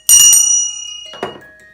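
A small bell from a collection rings twice, a bright metallic strike with a ringing decay followed by a softer second ding, close and alone.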